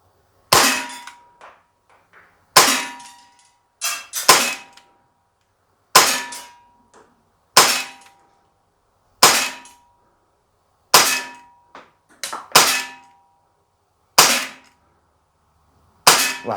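Umarex Glock CO2 BB pistol fired eleven times, each shot a sharp close crack with a metallic clang from the target, spaced about one to two seconds apart.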